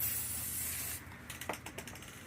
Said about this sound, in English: I'm going to take a little bit of newspaper about the size of that sun. I'm going to spray it yellow.